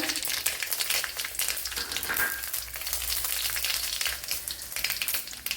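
Green chillies and cumin seeds sizzle steadily in hot oil while an egg thoran is made Kerala style, a dense continuous frying hiss that stays close and loud for the whole stretch.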